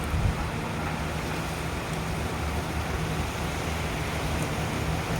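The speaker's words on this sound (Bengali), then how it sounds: "বৃষ্টিটা মনে হচ্ছে অনেক জোরদার করেই নেমেছে।" Heavy rain pouring down, a dense, loud, unbroken roar of water that stays constant throughout.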